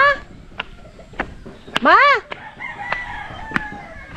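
A pet rooster crows once, loud and close, amid scattered clucks and clicks, with people talking around it.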